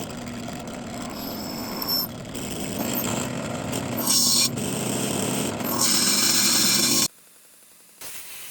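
A power drill bores handle holes through a hand-forged curved hunting knife blade, a steady grinding whir with rising pitch in spots, running continuously for about seven seconds before cutting out to near silence.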